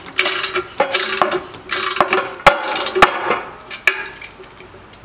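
Hand ratchet tightening bolts on a Honda Ruckus sidecar mount, close and loud, with repeated bursts of rapid pawl clicking broken by sharp metallic knocks and brief pauses between strokes.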